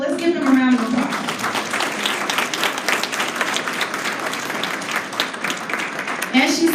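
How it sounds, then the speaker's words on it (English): At a Hall of Fame event, a crowd applauds the former players standing among them. The clapping is loud and close, mixed with cheering, and a voice comes in briefly at the start and again at the end. "Let's give them a round of applause."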